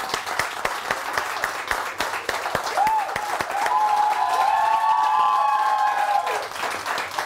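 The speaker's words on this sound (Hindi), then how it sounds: "जोर से तालियां और जोर से" Studio audience on a morning television show clapping steadily, swelling louder with cheers and whistles partway through before easing slightly.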